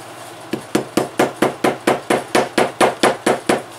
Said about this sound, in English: Let's grab a hammer.